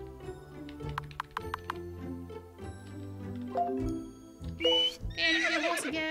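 Horse neighing in the video game World's Dawn, one long whinny near the end after a run of rhythmic hoof clip-clops and plucked game music, fairly close and clear with no talk.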